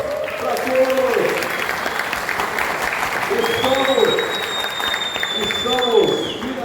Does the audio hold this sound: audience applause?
yes